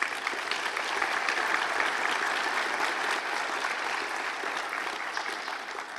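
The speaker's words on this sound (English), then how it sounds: "So how about a round of applause?" Steady applause from a sizable crowd at a white coat ceremony, loud and sustained for several seconds with no talking.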